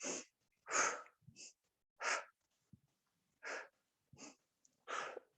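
Breathing exercise in chair yoga, in through the nose and out through the mouth, about seven separate close breaths in an irregular rhythm with quiet gaps between.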